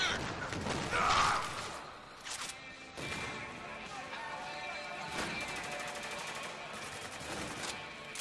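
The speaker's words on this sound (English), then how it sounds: "Grenade launcher!" A grenade launcher and gunfire in the video game Spec Ops: The Line produce a dense, continuous barrage of booms and shots with repeated sharp blasts over a loud, busy background.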